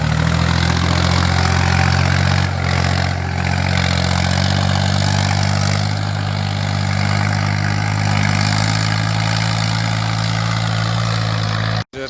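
A Massey Ferguson 240 tractor engine, working hard under a heavy implement, revs in a loud, steady low drone close by. The pitch shifts slightly as the throttle changes, and the sound cuts off abruptly at the end.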